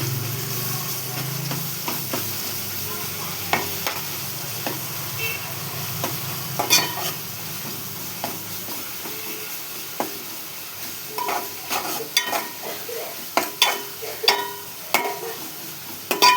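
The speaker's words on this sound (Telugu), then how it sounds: "ఉల్లిపాయ వేసుకోవాలి. అవి కొంచెం గోల్డ్ కలర్ వచ్చేదాకా వేయించుకోవాలి." Onions fry in a pan, browning toward golden, with a low steady sizzle and occasional scraping taps of a stirring spoon that grow busier toward the end.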